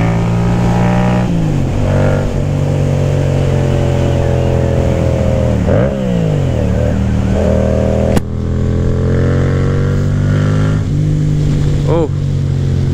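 Yamaha FZ07 motorcycle engine on a curvy road, loud and close, rising and falling through gear changes with sharp revs and engine braking, wind roar underneath throughout.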